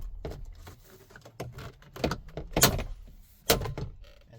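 Door panel clips are pried loose from a 2015-2020 Chevrolet Tahoe/Suburban door: a run of sharp plastic snaps and pops, close and loud, with scraping and rattling in between.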